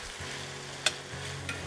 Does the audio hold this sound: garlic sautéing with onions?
yes